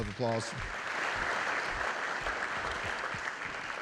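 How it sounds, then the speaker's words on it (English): Sustained crowd applause at an economic forum hosted at a college, steady and full throughout, with a brief voice at the very start. "Let's give them a big round of applause."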